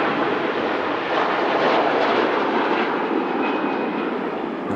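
A KLM airliner approaching Manchester Airport makes a steady, broad jet roar that holds loud and even throughout, with no talk over it.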